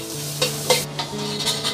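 Dried chilies and Sichuan peppercorns being stir-fried in a wok over medium-low heat, with soft sizzling under repeated scraping and stirring strokes of a utensil against the pan, close and fairly loud, with no talk.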